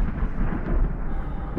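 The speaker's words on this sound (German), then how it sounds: "Genau, unter Wasser donnert's." Muffled underwater thunder from the video game SOMA, a deep, loud, continuous low rumble that swells slightly in the middle and carries no voices.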